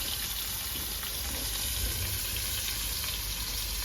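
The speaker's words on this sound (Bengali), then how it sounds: "এই তেলেই আলু দিয়ে দিচ্ছি আর তার সঙ্গে দিয়ে দেবো ফুলকপি, একসঙ্গে ভেজে নেবো হালকা করে।" Potatoes and cauliflower fry together in hot oil, giving a steady, dense sizzle that holds evenly from start to finish with no pauses or voices.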